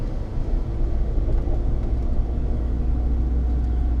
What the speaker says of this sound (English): this is a drive in a CRX